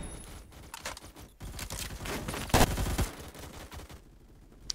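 Rapid automatic gunfire from a rifle with heavy recoil in the Phantom Forces video game, loud bursts crackling in quick succession with a short pause, then a final sharp shot.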